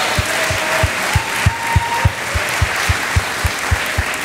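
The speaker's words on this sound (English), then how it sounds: "Everybody wants to clap." A room full of people applauding steadily, with rhythmic loud thumps beating underneath the clapping at a regular pace.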